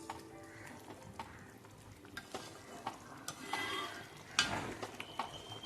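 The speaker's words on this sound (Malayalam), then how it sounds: "ഗ്രേവി നല്ലോണം തിളച്ച് വന്നിട്ടുണ്ട്." Chettinad egg gravy simmers in a pan with a soft, faint bubbling and sizzle. A utensil stirs and clinks against the metal now and then, quiet and close.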